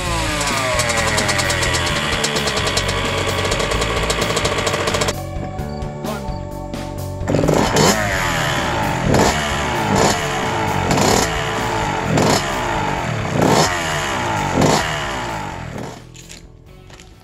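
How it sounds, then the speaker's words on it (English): A 2003 Honda CR85 two-stroke dirt bike engine, carburetor just rebuilt after leaking fuel, buzzes at a high idle, cuts briefly, then runs again with repeated revving blips, loud and close. "So we got the CR85 running."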